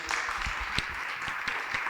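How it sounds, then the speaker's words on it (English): A room at a community family meeting claps for a guest, a moderate, steady patter of many hands with a few sharper individual claps standing out. "Let's give brother Abby another round of applause."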